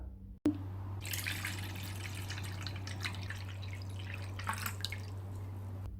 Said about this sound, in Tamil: தண்ணி ரெண்டு கப்